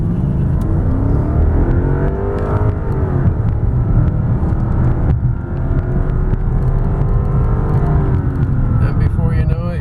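A 2014 Lexus LS460 L engine roars as it accelerates hard from 0 to 60 mph, its pitch climbing and dropping with each gear change, loud and sustained for the whole stretch.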